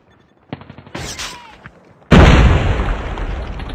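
A grenade blast and gunfire in the mobile shooter Call of Duty Mobile: a few sharp shots and a short burst, then a loud, sudden explosion that rumbles and fades.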